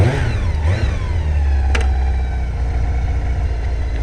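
A motorbike engine runs loud and close, a dense rumbling drone with a short rev early on and steady throbbing afterward, with no talk.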